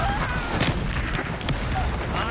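Confringo blasting curse in Hogwarts Legacy, several sharp explosive bursts and gunfire-like cracks over busy combat noise, fairly loud and close, with a voice intoning a spell.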